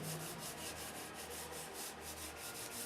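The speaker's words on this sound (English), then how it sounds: "I'm sanding out the white blocking coat that I had just kind of sprayed on." Sanding a white blocking coat on an aircraft canopy, steady rhythmic rubbing strokes of abrasive on a smooth surface, close and continuous with no voices.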